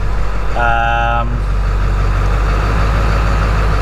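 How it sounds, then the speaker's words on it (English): A 7.3 Powerstroke diesel pickup truck warming up idles with a loud, steady low rumble and a fluctuating idle throughout, while a short tonal toot sounds briefly near the start. "So we got the truck warming up. That's why it's a little noisy, obviously."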